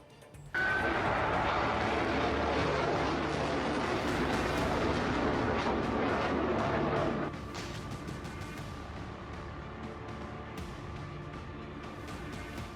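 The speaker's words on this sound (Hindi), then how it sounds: "ईरान की नई मिसाइल का परीक्षण।" An Iranian missile test launch roars continuously and loudly for several seconds, a broad rocket-engine blast that then drops to a quieter, sustained rumble as it recedes, with no talking.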